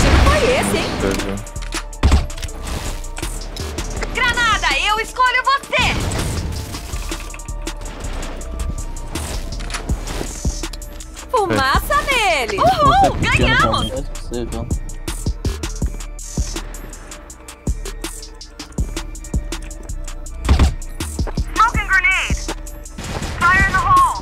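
Rapid bursts of gunfire, grenades and explosions in the video game CrossFire crackle continuously, with players' voices and game sounds mixed in throughout.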